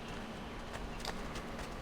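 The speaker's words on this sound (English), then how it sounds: "There should be a horse there." A horse's hooves clip-clop in Assassin's Creed II, a quick, steady trot of faint hoofbeats over a low game ambience, with no talking.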